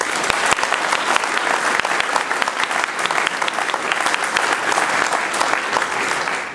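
An audience at a mayor's New Year address in a French town applauds children on stage, with loud, sustained, dense clapping throughout.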